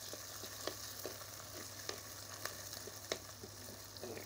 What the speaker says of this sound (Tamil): முதல்ல சின்ன வெங்காயம் நல்லா வதங்கணும்